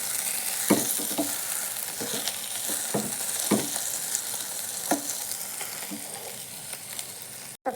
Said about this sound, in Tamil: தக்காளி வதங்கிட்டுருக்கு.